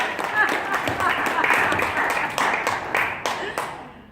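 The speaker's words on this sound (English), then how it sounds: "So, yeah, that deserves a clap. I heard a little clap like that." A small group claps in an indoor gathering, the hand claps scattered and uneven over about four seconds and a voice murmuring underneath.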